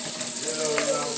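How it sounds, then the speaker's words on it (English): Bacon fries and is stirred in a non-stick pan for Southern fried cabbage, giving a steady close sizzle with faint scraping. "we're just going to keep on stirring this bacon up until it gets good and brown"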